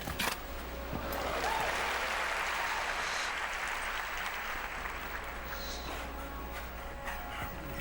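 A crowd applauds at a Rolex World Cup Finals show jumping event in Las Vegas, with sustained clapping that swells and then slowly fades across the arena.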